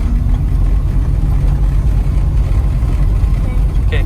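A 1973 Triumph Spitfire 1500 engine accelerates with a loud, low, steady drone, while people talk over it.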